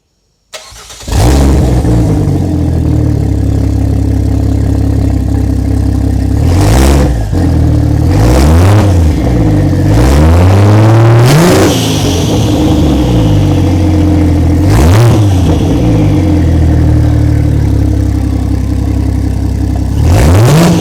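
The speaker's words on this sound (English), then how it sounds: "So fire it up, Ben." A Ford Barra engine sitting on the ground, wired to a standalone ignition switch and starter button, cranks and fires, then idles loudly with several sharp revs rising and falling throughout.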